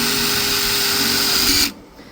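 A power drill whines steadily at high speed, drilling holes and driving screws into a wooden bird feeder, loud and close, then cuts off abruptly near the end, leaving quiet room tone.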